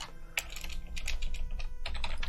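Computer keyboard keys clatter in quick irregular bursts, separated by short pauses, close and fairly loud, with no voices over it.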